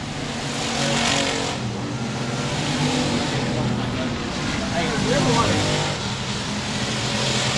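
Race cars roar around the track on the final lap at 67 Speedway of Texarkana, a continuous engine drone rising and falling as they pass, with an announcer calling the action over it.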